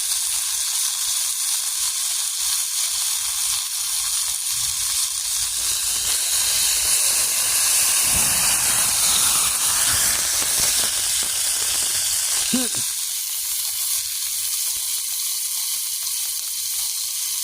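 Food sizzles in grease over a campsite cooking fire, a steady, loud crackling hiss that runs throughout with little change.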